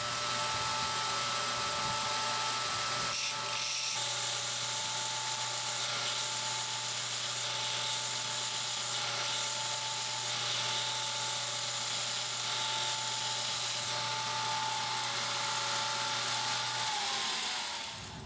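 A grinder cutting the lock face of a knife lock bar at 7.5 degrees, a steady high whine with a constant hum underneath, held for about seventeen seconds before trailing off.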